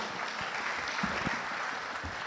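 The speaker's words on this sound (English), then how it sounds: "Another round of applause as he leaves the stage" Applause at a seminar opening ceremony, a broad continuous wash of many hands clapping in a large room, steady and moderately loud throughout.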